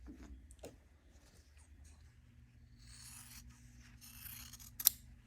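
Scissors trim pieces of quilt fabric close by, with soft, irregular snips and rustling cloth, one sharper cut near the end, over low background hum.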